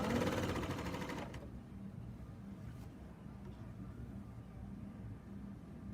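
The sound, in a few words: serger sewing machine stitching fabric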